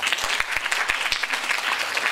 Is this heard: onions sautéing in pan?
no